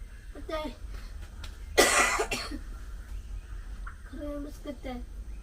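A sharp cough bursts out once between stretches of people talking, over a low constant hum.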